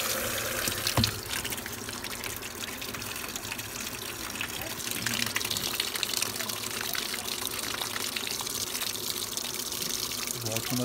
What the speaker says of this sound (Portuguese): Lavadora tá enchendo agora